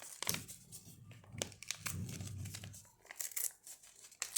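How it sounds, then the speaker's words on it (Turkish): A package being torn open gives close crinkling and ripping of wrapping material in several short bursts separated by brief pauses. "Şimdi öncelikle şuradan yırtacağım."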